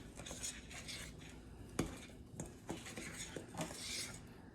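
Kinetic sand mixture is stirred in a bowl with a utensil, giving soft scraping and gritty rubbing with a few faint clinks, quiet and close with no talking.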